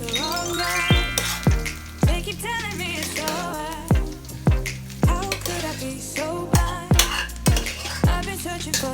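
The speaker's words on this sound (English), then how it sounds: "Saute for a minute and add in the cooked rice." Cooked rice with burnt ginger and spring onion being sautéed in a pan: a spatula clanks against the metal in a steady, regular rhythm over a soft sizzle, with music playing underneath.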